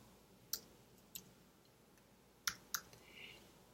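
Sparse, crisp key clicks on a computer keyboard, four or five quiet taps spaced unevenly across a few seconds in a quiet room.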